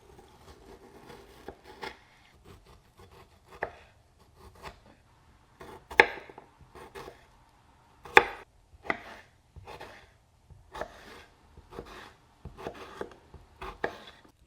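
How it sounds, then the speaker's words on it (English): A knife cubes stone fruit on a board with a run of irregular, crisp chops and taps, close and fairly quiet, with no voices. "Cube the stone fruit if that is what you're using."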